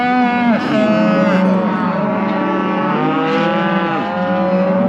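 Cattle at a calf gate, a cow bellowing in long, loud drawn-out moos that rise and fall in pitch, calling almost continuously over steady background noise.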